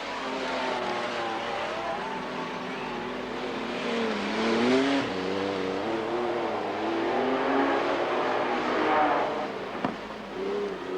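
Modified sedan race cars roar around the dirt oval at Mid Western Speedway in Darlington during the Golden Helmet, engines loud and continuous with shifting revs as the pack holds close.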